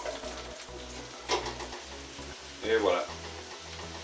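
Vegetables fry in oil in a pan for homemade ramen, a constant close sizzle with a couple of louder bursts as they are moved; a voice speaks briefly over it.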